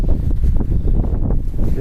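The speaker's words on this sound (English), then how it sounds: "It's kind of windy out here" Gusty wind buffets the microphone outdoors at a fire-destroyed home site, a loud, low rumbling roar with uneven pulses throughout the short stretch.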